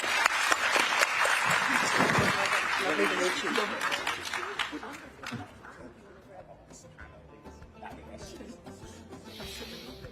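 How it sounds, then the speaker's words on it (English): Conference audience at a COP28 session on trade and climate change applauds in a sustained burst of clapping that gradually thins and fades toward the end. "Nice round of applause."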